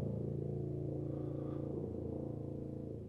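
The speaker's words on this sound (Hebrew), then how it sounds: "המקרר מתחיל לעבוד פתאום" A household refrigerator kicks on at night, giving a dense, low, continuous motor hum and rumble that holds steady and then eases off slightly at the end.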